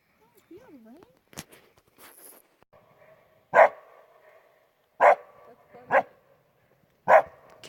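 A dog barks at ducks across a lake at an outdoor camp, several short sharp barks spaced about a second or more apart, moderately close, with a person talking between them.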